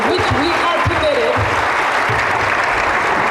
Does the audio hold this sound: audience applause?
yes